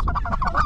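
Honking calls from specklebelly geese come in a quick, rapid series during a goose hunt, loud and close with no talk over them.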